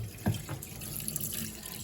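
A kitchen sink sprayer runs water over a rack of soapy dishes, a steady moderate hiss with a brief splashy burst near the start, close by and without talk.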